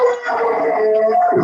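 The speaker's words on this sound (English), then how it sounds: "Apologies, the dog going out for his walk." A dog howls loudly and close by in a long, wavering tone for the whole moment, with its pitch shifting slightly and a lower yelp near the end.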